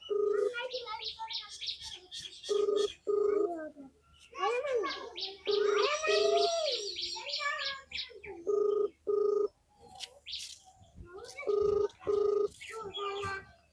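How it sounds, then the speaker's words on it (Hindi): A phone ringback tone heard while calling someone in a village in Uttar Pradesh, steady repeated ring bursts in pairs at regular intervals, close and clear, mixed with a melodic tune or recorded song between rings. "एक घंटी जा रही है।"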